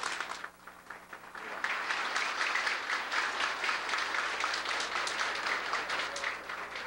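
Steady audience applause at a ceremony on the importance of the Brazilian sea, a dense even patter of many hands that swells after a soft start and holds at moderate level.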